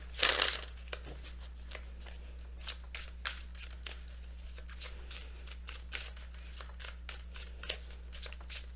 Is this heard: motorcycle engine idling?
no